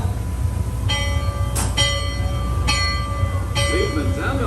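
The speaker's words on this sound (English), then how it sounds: "Sound last bell." A riverboat's last bell rings several separate times, each clear metallic strike ringing out over a steady low engine rumble and outdoor background noise.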